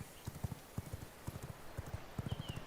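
Horse hooves clip-clop in a quick, regular galloping rhythm as a horse is ridden in the video game V Rising, crisp and close with faint background ambience.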